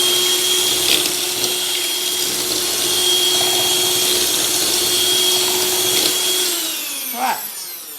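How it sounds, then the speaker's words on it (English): An electric hand mixer beats donut batter for air-fryer donuts, a loud steady motor whine with a constant pitched hum that runs for several seconds, then winds down and stops near the end. "we're going to put our electric mixer to get it combined"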